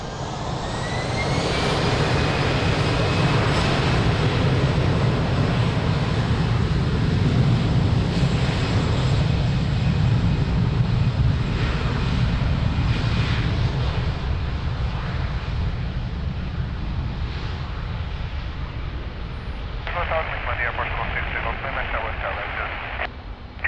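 An airliner roars down runway 02 at Lisbon Airport on its takeoff roll, a loud broadband engine rumble sustained throughout, with tower radio voices talking over it.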